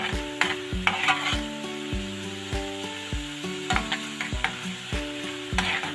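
A masala base for aloo gobi roasts in oil as a spoon scrapes and stirs it round the pan, repeated scraping strokes with a soft sizzle underneath, close and fairly loud, no voices.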